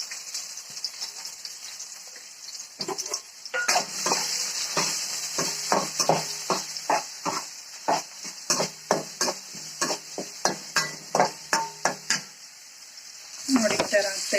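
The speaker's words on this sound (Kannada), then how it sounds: "ಈರುಳ್ಳಿ ಆ್ಯಡ್ ಮಾಡ್ತಾ ಇದ್ದೀನಿ" Onions fry in hot oil with mustard seeds and curry leaves, a steady bright sizzle under a run of repeated stirring scrapes from a utensil against the pan, close up with no talking.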